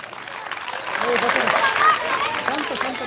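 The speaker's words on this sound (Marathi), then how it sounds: "सर एकदा जोरदार टाळ्या होत्या" Audience applause at a school Republic Day flag-hoisting and cultural program, a short burst of clapping that swells midway and continues steadily, heard at moderate distance in a hall.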